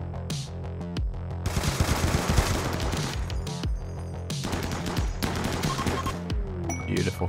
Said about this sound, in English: Those shotguns really come in clutch when you get in close range.